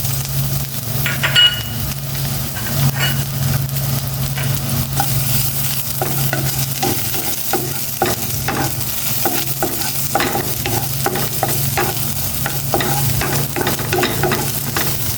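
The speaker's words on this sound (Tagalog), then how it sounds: "Maggisa na po ako ng bawang para sa tokwa." Garlic sautéing in a small amount of oil in a pan, prepared for tofu: a steady close sizzle with repeated scraping and stirring strokes throughout, no voices.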